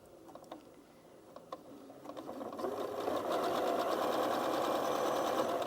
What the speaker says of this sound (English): before I have the noise of the machine again